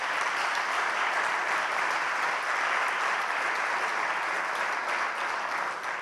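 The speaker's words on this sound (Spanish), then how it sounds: "Y voy a pedir un aplauso para esos 35 años de vida." A conference audience applauds steadily throughout, a dense, even wash of many hands clapping in a large room with no breaks, and no one speaking over it.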